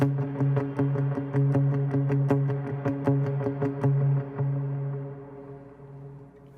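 Palm-muted electric guitar in a galloping dotted-eighth pattern, washed in reverb and delay so the repeated plucks blur into a fuller, echoing bed that fades away at the end.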